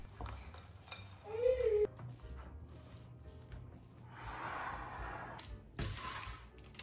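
Chopped nuts, chocolate and fudge candies being folded into cookie dough, with soft scraping and rubbing strokes of a utensil against a bowl, a few light knocks, and a brief squeak in between.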